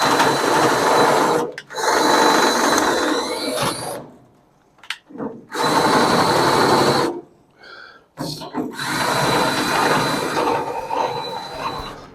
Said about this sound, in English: a drill bit that's kind of cut off flat and almost reverse sharpened to just come in here